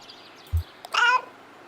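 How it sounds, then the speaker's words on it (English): A cat meows once in the video game Kentucky Route Zero, a short, close, clear meow after a soft thump, against near silence. "I love this cat. You're a chatty one, aren't you?"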